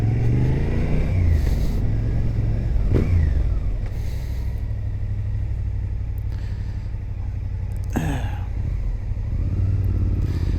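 A motorcycle is ridden on the road, its engine droning steadily and loud at close range, with a few rises and dips in revs and wind rush, and no speech.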